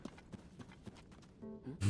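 Horse hooves clip-clop in Zelda: Tears of the Kingdom, a quick run of light, evenly spaced thuds at a trot, close but soft, before a brief tonal game sound and a louder burst at the very end.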